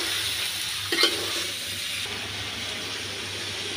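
Bitter gourd and prawns frying in a pan, a soft steady sizzle with one brief scraping stir near the start, close and moderately quiet.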